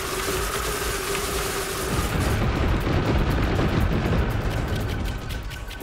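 A bomber plane in the Trailmakers video game drops a huge load of bombs, producing a sustained, loud rumbling barrage of overlapping explosions that swells in the middle and fades near the end.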